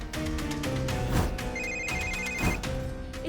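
A mobile phone hidden under a sofa plays a loud electronic ringtone, a repeating melodic pattern with bright tones that runs continuously through the moment.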